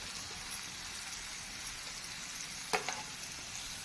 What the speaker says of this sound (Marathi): आता आपण त्याच्यामध्ये घालूया कांदा कांदा देखील लाल रंगा होईपर्यंत आपण व्यवस्थित परतून घेणार आहोत